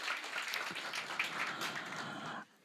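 Audience applause at a stand-up comedy show, a dense burst of clapping from many hands, fairly loud and sustained for about two seconds before cutting off abruptly.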